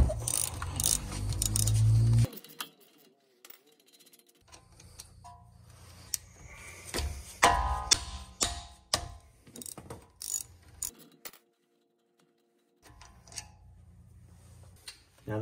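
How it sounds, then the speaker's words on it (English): A 17 mm ratchet loosening the front brake caliper slide pin bolts on a Nissan Murano, close rapid clicking in several bursts separated by pauses, with occasional metallic handling and brief low rumbles. "We need to take out the pin bolts, the slide pin bolts right here and right here."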